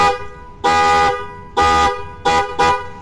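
A Hyundai Creta horn fitted to a Maruti Swift car blasts four loud, close honks, two longer ones followed by two short ones, with no other sound between them.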